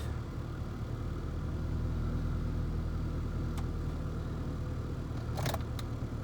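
A car engine idles with a steady low rumble while its automatic transmission is moved through the gears, with faint clicks of the shifter near the end.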